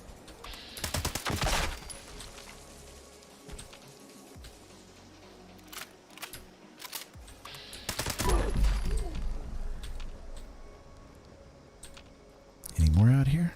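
Gunfire from Fallout 76, shots aimed through a barrier, coming in a few sharp bursts spread across the clip, with scattered clicks and a voice talking in between.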